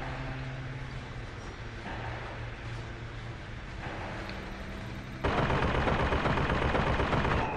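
Gunfire in BioShock Infinite arrives as a dense, continuous roar of rapid shots that grows noticeably louder and harsher partway through, with no voices.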